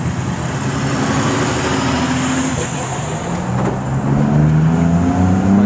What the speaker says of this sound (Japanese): 2台連続トレーラーが来ましたけど、ちょっと日本と違って鼻が出てるタイプになります。